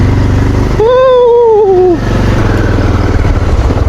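A motorcycle ridden off-road on a rough track near Shivapuri's Dhap Dam, its engine running steadily close by with one rising and falling whine, while a voice speaks briefly.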